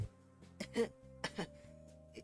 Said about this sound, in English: a tiny voice starts coughing next to me